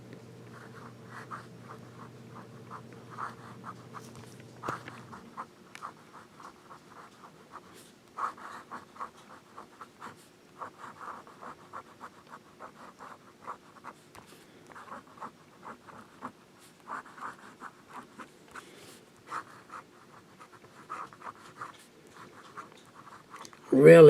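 A fountain pen nib with Blackstone ink scratching across paper in short, repeated strokes, with small pauses between words, close and faint; a low steady hum under the first few seconds.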